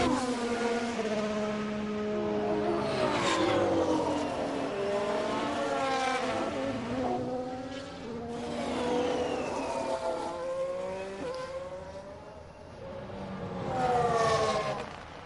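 Formula 1 race cars at the 2022 race in Austin, USA scream past one after another, engines rising and falling in pitch as they accelerate and pass, loud and continuous, no commentary over them.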